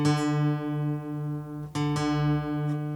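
A sustained acoustic guitar string rings slightly out of tune during tuning by ear, its tone wavering with a slow beat; a fresh pluck restarts it near the two-second mark, close and fairly loud.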